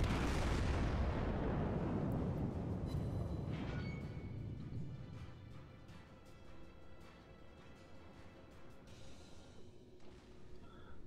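A heavy naval gun salvo from the enemy battleship Wyoming in World of Warships booms loudly and rolls away into a long, decaying rumble, with faint clicks and game sounds over the fading tail.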